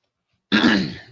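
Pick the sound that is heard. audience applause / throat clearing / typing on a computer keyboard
throat clearing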